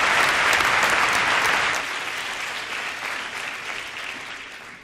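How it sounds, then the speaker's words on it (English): A large graduation audience at the INSEAD MBA ceremony breaks into loud, dense applause that stays full for a couple of seconds, then eases to a steadier, quieter clapping without any voices on top. "a big round of applause for Haley and Laura for managing us through this ceremony"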